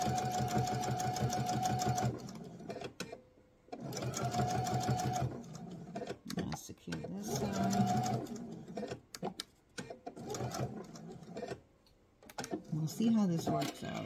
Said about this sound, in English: we're just going to sew across that